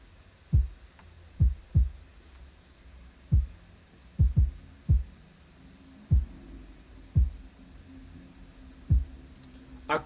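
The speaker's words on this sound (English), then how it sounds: "Let me show you how these drums sound." A soloed programmed drum beat with snare plays quietly, made of short, punchy low hits in an uneven groove of about a dozen strikes with gaps of near silence between them.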